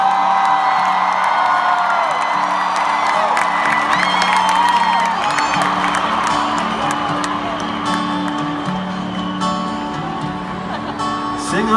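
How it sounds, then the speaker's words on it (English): A large concert crowd at a show in Singapore roars, whoops and cheers continuously and loudly, a dense wall of voices with music tones running underneath throughout. "the way that the crowd, they roar"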